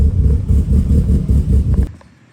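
Mitsubishi Evo 8 engine running after a wiring harness repair, a loud, close, lumpy idle with a rhythmic pulsing throb that cuts off abruptly near the end, no talk.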